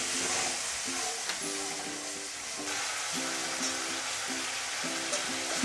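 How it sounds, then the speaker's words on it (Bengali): Vegetable manchurian sauce with soy sauce frying in hot oil in a restaurant-style preparation, producing a continuous close sizzle with faint tonal hum and light stirring throughout. "ভাজা হয়ে তেল ছেড়ে এসছে।"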